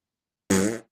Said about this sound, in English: He did farting sounds.